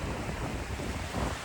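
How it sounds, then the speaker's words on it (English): Ocean waves break on the shore in a constant, loud roar, with wind buffeting the microphone and no voices. "Ocean right behind me."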